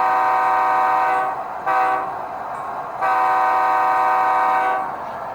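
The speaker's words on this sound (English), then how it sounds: "here's the horn." An Athearn Genesis SD90MAC-H2 Union Pacific HO-scale model locomotive sounds a multi-tone horn in several long blasts with short gaps between them, loud and clear with no talking.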